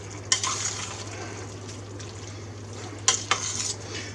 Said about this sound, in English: now we're going to add 3 cups of crushed tomatoes. Get that all stirred in.